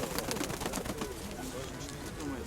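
Pigeons coo at a fair in Pavlohrad, among them a steel-grey bird with white on its back, heard close but half-buried in a busy crowd hum with people talking nearby.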